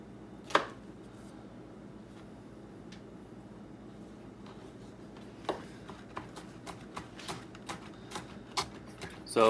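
A knife taps against a cutting board chopping garlic, a few isolated chops at first, then a steady run of evenly spaced chops over a low background hum.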